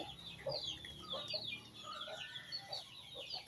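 Chickens cluck and chatter continuously close by while being fed, a busy overlapping flock with soft, quick calls and no speech.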